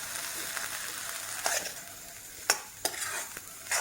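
Potatoes fry in tamarind water in a pan for a bitter gourd dish, making a steady soft sizzle. A few sharp clicks of a utensil stirring against the pan cut through it. No one speaks.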